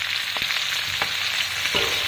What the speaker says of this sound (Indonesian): Goreng dia sekejap.